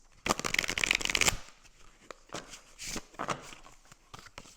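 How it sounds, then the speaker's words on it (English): Tarot cards are shuffled in a quick flurry of papery riffles, followed by softer intermittent card slides and taps, close and quiet. "So I've already shuffled, but I'll shuffle again"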